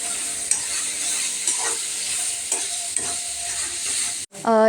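Stirring peas into a tomato curry in a pan: a spoon scrapes and stirs through the thick mixture with a soft sizzle underneath, ending in a louder scrape.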